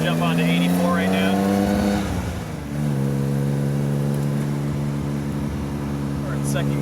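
A 1950s-era Aston Martin DB2/4 Mark III engine drones steadily while driving, a strong rumble that dips briefly around a gear change and then settles back to a smooth, continuous tone.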